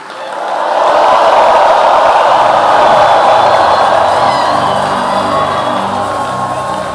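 Church congregation at a conference blessing service erupting in a loud, sustained roar of shouting and cheering that swells after a brief quiet start and holds strongly for several seconds.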